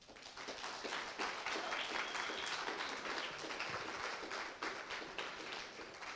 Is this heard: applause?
yes